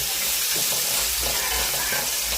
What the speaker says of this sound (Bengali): এবার পেঁয়াজটাকে ভাজা করি